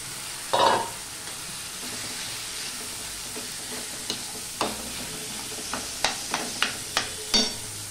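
Boiled potatoes are added to a hot pan and stirred, with a brief loud sizzle early on followed by a low steady frying hiss and several sharp scraping or clinking strokes near the end.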